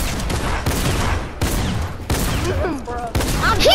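Bursts of gunfire in a Fortnite match, several loud rapid volleys and single shots in quick succession, with no speech over them.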